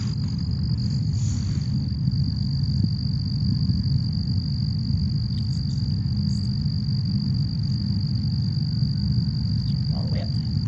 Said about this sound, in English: Can you hear that faint buzzing sound?